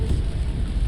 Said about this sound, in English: this rain is bad.